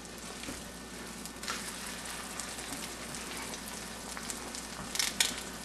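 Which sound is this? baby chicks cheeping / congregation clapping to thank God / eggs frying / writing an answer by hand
eggs frying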